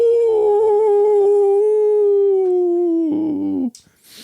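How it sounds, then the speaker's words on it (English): A long wolf-like howl echoes from a common room as a tabletop RPG sound effect, loud and sustained, bending slightly before breaking into a shorter wavering tail and cutting off. "there is a howl coming from the common room"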